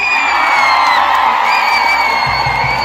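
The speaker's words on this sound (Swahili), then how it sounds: "Kwanza makofi na vigelegele." A large church crowd in Geita applauds and ululates, a dense, loud, sustained wall of clapping with high trilling ululation cries running throughout.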